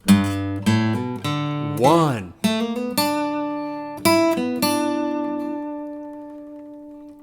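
A melodic electric guitar lick from a guitar solo, played alone, with picked notes, a bending slide in the middle, and sustained notes ringing out at the end.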